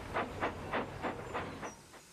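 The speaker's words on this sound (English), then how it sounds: "I'll do my best, he puffed, and he chuffed off to Gordon's hill" A small steam tram engine puffs rhythmically, six evenly spaced chuffs with hissing steam, fairly close and fading slightly at the end, with no talk.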